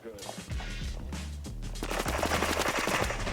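Akimbo guns firing in a multiplayer video game, rapid dense bursts of gunfire that swell and grow louder toward the end, with a player talking over the shooting.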